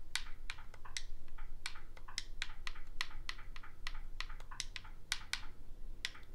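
Keyboard typing to search for the Kodi app on an Xbox: a steady run of quick, crisp key clicks at close range over a low background hum, with no voices.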